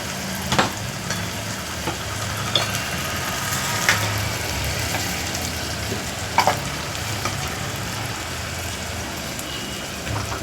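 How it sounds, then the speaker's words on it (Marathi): A green masala rice mixture being stir-fried in a pan, giving a continuous crackling sizzle broken by a few sharp spatula clinks and scrapes. "छान असं हात परतून घ्यायचं"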